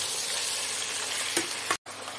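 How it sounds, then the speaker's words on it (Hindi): Mutton keema sizzles loudly with onions in a pan, a continuous close frying hiss broken by a couple of stirring knocks and a momentary gap. "इसमें हम अपना मटन कीमा डाल देंगे और इसको अच्छे से भूनेंगे"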